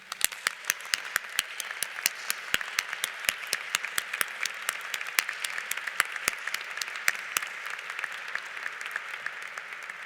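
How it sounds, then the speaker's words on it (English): Graduates at a university psychology commencement ceremony receive applause: steady crowd clapping with sharp individual claps standing out, continuous and moderately distant for about ten seconds. "Let's give you all a round of applause."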